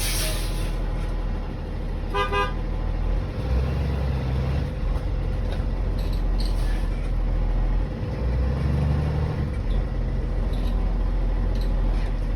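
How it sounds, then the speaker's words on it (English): A school bus creeps forward at about walking pace during a pre-trip brake check, its engine rumbling low and steady outside, with a brief horn-like toot early on. "I'm going to release my parking brake, and I'm going to drive forward at about 5 miles an hour."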